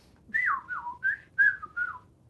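A parrot's imitation of bird chirping: five clear whistled notes with sliding pitch, close and fairly loud against a quiet background.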